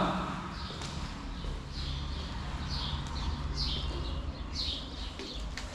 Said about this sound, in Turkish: Kuş seslerini, cıvıltılarını dinleyebiliriz görüntüler eşliğinde.